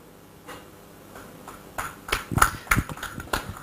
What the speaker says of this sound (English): Thank you to those hand claps.